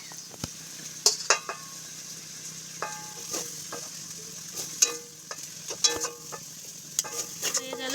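Homemade wheat-flour chowmein noodles fry in a pan with a soft, low sizzle. Sharp clinks and scrapes from a utensil against the pan come at irregular moments throughout.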